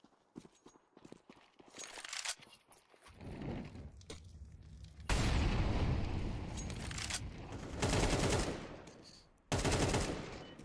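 Gunfire from a Counter-Strike match, including AWP sniper rifle shots: sparse sharp clicks first, then loud, dense bursts of shooting that cut off sharply, with a final heavy blast near the end.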